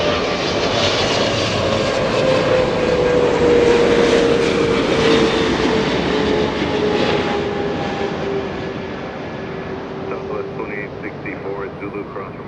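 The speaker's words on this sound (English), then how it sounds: "That was such a spectacular landing." A jet airliner roars close by while landing at Los Angeles International Airport, a loud sustained engine rumble with a descending whine that slowly fades, with voices underneath.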